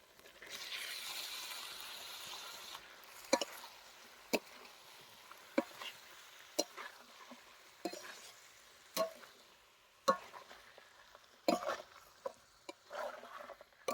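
Chicken and chickpeas with spices being stirred in a pan, a soft frying hiss under sharp, irregular scrapes and knocks of the spatula, fairly close and moderately loud.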